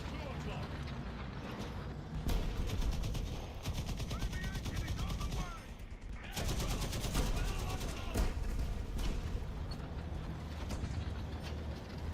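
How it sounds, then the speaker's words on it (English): Artillery fire, with an M44 mentioned, rumbles through a video game battle as repeated heavy blasts and rattling gunfire, mixed with other game noise and a voice talking over it. "When did they add artillery?"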